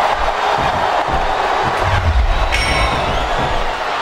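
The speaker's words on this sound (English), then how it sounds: "This capacity crowd is making their opinions known tonight." A large capacity crowd roars and cheers continuously at a wrestling match in the PS2 game WWE SmackDown vs. Raw 2007, a dense wash of voices with a low rumble swelling briefly near the middle.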